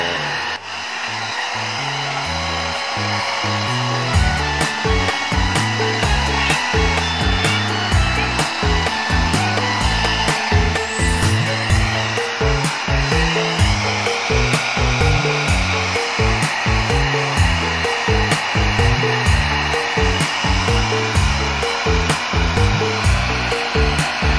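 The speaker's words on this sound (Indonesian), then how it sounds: "ini pakai hair dryer saja" A handheld hair dryer heats a computer mainboard during a repair, blowing a loud, steady, close-up whoosh for over twenty seconds with a faint fluttering pulse and no talking.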